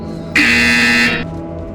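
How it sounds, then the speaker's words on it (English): Loud electronic buzzer in the virtual-reality game Portal Stories VR, a single flat tone lasting just under a second over a low ambient hum. "You will hear a buzzer. When you hear the buzzer, engage your atrophied neck muscles and look up at the ceiling."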